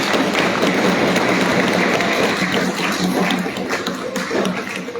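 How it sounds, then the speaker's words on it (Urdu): Enthusiastic applause fills a district council hall at an award show as guests come forward, a thick, continuous patter of many hands clapping nearby that eases slightly toward the end. "ان کے لیے بھرپور تالیاں ہوتی ہیں"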